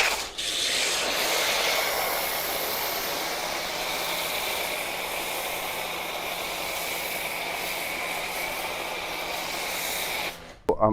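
A steady hissing spray of foam tire cleaner on a Toyota Corolla runs continuously for about ten seconds, close and fairly loud, ending with a brief clatter.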